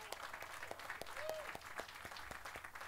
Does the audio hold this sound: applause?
yes